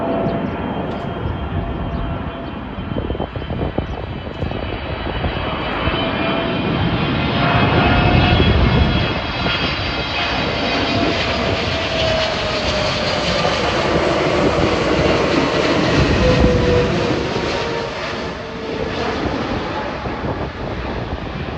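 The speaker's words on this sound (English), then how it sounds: "And here comes Korean Air Cargo 777 from Anchorage, Alaska." A Korean Air Cargo Boeing 777 jet, arriving from Anchorage, passes overhead near Rosedale and Valley Stream. It makes a loud, sustained roar that swells as the jet comes closest and then slowly eases, with a whining engine tone shifting through the pass.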